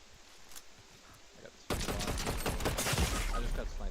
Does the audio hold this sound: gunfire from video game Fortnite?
yes